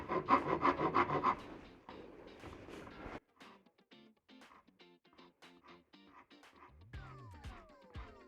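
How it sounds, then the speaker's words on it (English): A Shinto rasp scrapes wood away from a guitar headstock in quick rhythmic rubbing strokes, first loud and steady, then a series of fainter, scattered scraping and tapping sounds close by. "I'm gonna use the curved edge, and we're just gonna start taking away material."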